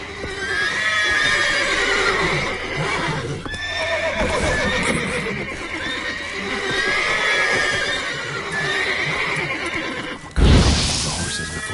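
Horses in The Witcher 3 game neighing and whinnying repeatedly in long, wavering calls, with clip-clopping hooves underneath and a sharp louder thump near the end, all close and prominent.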